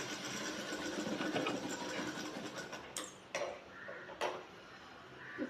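Sewing machine stitching a collared shirt, a steady close whirring run with a few sharp clicks and taps toward the end.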